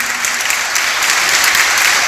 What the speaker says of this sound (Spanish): un fuerte aplauso para Max